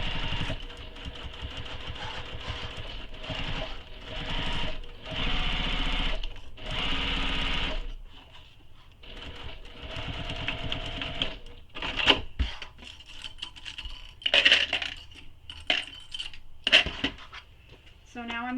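A sewing machine runs basting stitches along a tote bag seam in bursts of rapid mechanical whirring, stopping and starting, close by, with a person talking over parts.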